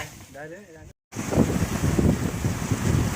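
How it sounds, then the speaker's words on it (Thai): Storm wind roars and buffets the microphone at sea aboard a longtail fishing boat, loud and continuous, after someone speaks briefly over the gusts. "ตอนนี้เราได้เจอกับลมพายุ"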